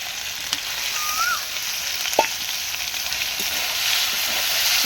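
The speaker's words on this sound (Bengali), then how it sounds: "লোটে মাছের জন্য মাছটাকে ভালো করে ভেজে নিচ্ছি" Lote fish frying in a pan, a continuous close hiss of hot oil holding steady throughout, with a few faint taps and a brief whistle-like tone in the background, no talking.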